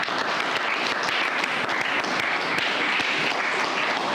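A congregation at a church service applauds and acclaims, producing a loud, dense and unbroken roar of clapping that holds steady throughout.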